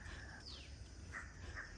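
Morning birdsong near a house: faint crow calls and brief sparrow chirps drift over steady background hiss, distant and soft, with no voices.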